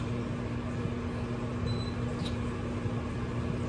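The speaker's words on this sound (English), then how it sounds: "I like to add more shredded cheese to my broccoli. I love my broccoli cheesy, and I add it back to the microwave." A microwave oven hums steadily while heating a bowl of broccoli topped with shredded cheese, a constant low mechanical drone with no speech, faint and uninterrupted throughout.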